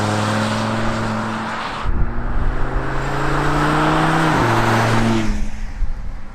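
An Audi RS Q3 Sportback drives past close and loud, its engine note climbing in steady tones with two clear shifts along the way.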